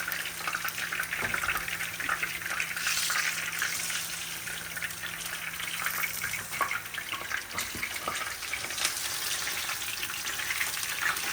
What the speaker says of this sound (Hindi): तो ये जी हमारी फ़िश तो होगी सारी फ्राई।